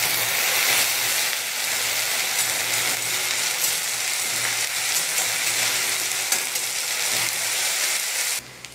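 Ginger garlic paste fries in a hot pan with a loud, steady sizzle that holds unbroken for the whole stretch, with no voices over it.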